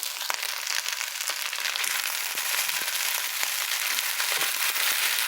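Carrots and rutabaga are stirred in a hot pan for fried rice, a steady loud sizzle and crackle with scattered scraping ticks of the utensil running throughout, close and unbroken.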